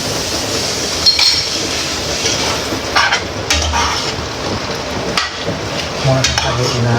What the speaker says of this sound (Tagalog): ilalagay ko naman ngayon itong mga vegetables